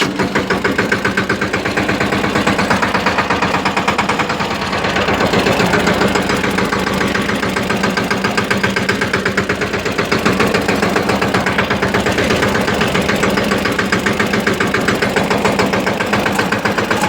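A small farm tractor's engine idles loudly and close, a steady rhythmic chugging pulse with a slight knock that holds without change for the whole stretch.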